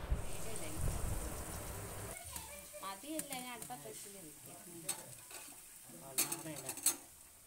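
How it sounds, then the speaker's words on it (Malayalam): Batter-coated banana pieces hiss and sizzle in hot oil, with a bright steady frying crackle, occasional clinks of a utensil against the pan, and a voice talking over most of it. "നമ്മൾ തിളച്ച എണ്ണയിലോട്ട് അങ്ങോട്ട് ഇട്ട് കൊടുക്കാം"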